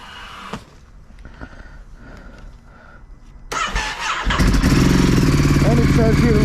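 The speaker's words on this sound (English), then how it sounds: "let's start the bike, guys." A Ducati Monster 937 motorcycle cranks and fires up after a few seconds of quieter background with a voice, then settles into a loud, close, steady warm-up idle.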